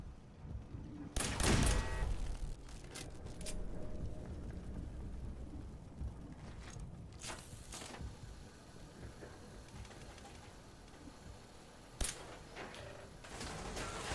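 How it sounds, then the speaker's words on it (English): A turret in the game Fallout 4 fires in sharp, loud bursts, with a heavy early volley and several later isolated cracks over a low mechanical hum and clanking. "What kind of frickin' turret is that?"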